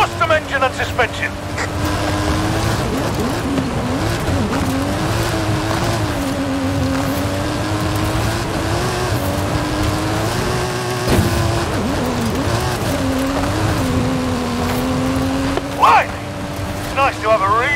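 A custom-engined stunt car with custom suspension races uphill in Forza Horizon, its engine droning loudly and steadily with rising and falling pitch as it climbs, while voices talk over it.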